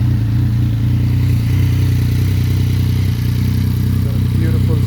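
A Yamaha MT-09 motorcycle with 7,600 km on it, running in A mode, idles with a steady, loud, low engine rumble throughout.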